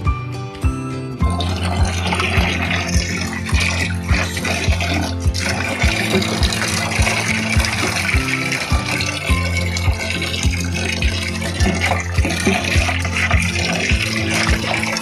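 Water pours and splashes continuously over an old glass aquarium tank to wet it all over, a steady, fairly loud gushing with a faint tonal layer beneath.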